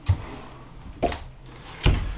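Narrowboat cupboard doors shut with three separate soft clunks, each a brief low thud spaced about a second apart. They are heard quietly against a faint room background with no talking.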